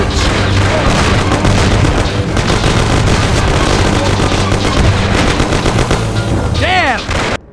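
A loud, dense shootout in the Mafia video game, machine-gun bursts and booming shots overlapping continuously for several seconds, with a brief warbling whine near the end.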